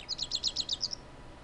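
Birds in the video game Broken Sword chirp in a quick, bright run of about eight tweets, with faint ambient hiss behind them and no voices.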